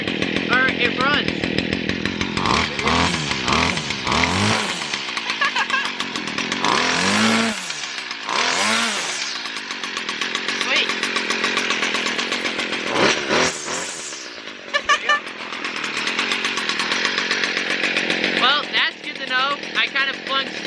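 A cheap $50 gas string trimmer runs loud and close in snowy conditions, its high buzzing two-stroke whine rising and falling as the throttle is blipped, with a person speaking over parts of it.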